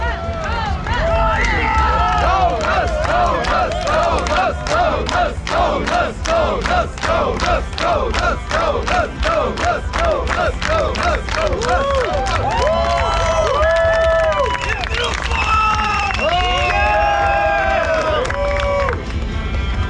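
A large crowd shouts and chants rhythmically, loud and close, with scattered clapping and cheering rising toward the end.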